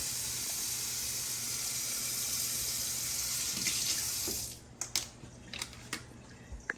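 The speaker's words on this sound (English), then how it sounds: "Turn off the water." Water runs steadily from a tap with a loud hiss, then shuts off, leaving a few drips and clinks.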